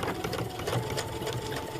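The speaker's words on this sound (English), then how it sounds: "I will allow the machine to do the sew up" A sewing machine stitches fabric for a drawstring bag, running steadily and continuously at close range with a fast, even mechanical whir and no pauses.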